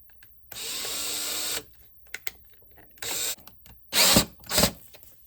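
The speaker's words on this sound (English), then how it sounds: "I'm going to go ahead and screw this in" A power drill drives a screw into a Christmas craft piece in short bursts: one longer whir, then two briefer spins with small clicks and handling noises between them.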